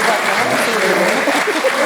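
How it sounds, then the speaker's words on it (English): A mayoral debate audience applauds the candidates, a steady, dense round of clapping at moderate loudness lasting the whole short stretch, with voices faintly mixed underneath. "I think we should give our candidates a round of applause."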